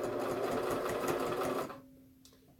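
A small home sewing machine stitches a straight seam, a loud rapid mechanical whir for about a second and a half, then stops and leaves a faint hum.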